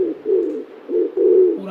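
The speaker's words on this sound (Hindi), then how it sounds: "इनकी आवाज गुटुरगू की तरह सुनाई देती है।" A pigeon coos close by: a few soft, low throaty notes in a short rolling rhythm with brief gaps between them.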